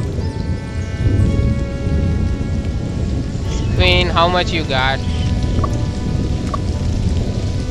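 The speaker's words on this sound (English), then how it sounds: "Oh, it's just rain, right?" Steady rain in the survival game Stranded: Alien Dawn, a broadband wash running throughout under a voice talking, with a few brief tonal game sounds partway through.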